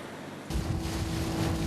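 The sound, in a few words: strong ocean waves at sea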